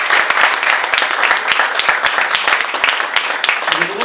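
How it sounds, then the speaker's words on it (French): A crowd applauding musicians at the opening of the Festival Black History Arts, dense clapping from many hands, loud and close, lasting the whole stretch. "Je vous demande une fois de plus d'applaudir encore pour notre musique"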